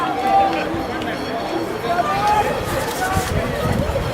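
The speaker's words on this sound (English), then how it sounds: "Crowd are getting restless" A restless crowd at a field hockey match keeps up a steady murmur of chatter and scattered shouts, with occasional whistles and footfalls on the pitch, as speech carries over it throughout.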